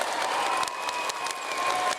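A crowd of Queensland supporters applauds at a men's basketball championship game, a steady wash of dense clapping filling the hall throughout with a faint whistle-like tone above it.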